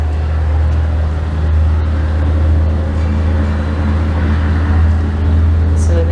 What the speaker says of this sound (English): in the case of this truck driving by, I just breathe and I hear it passing as it rises closer